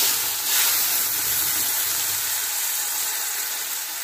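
Tomato puree added to a hot tempering for a spinach and pea dish sizzles steadily, a continuous close hiss with some steam, fairly even throughout with no talking.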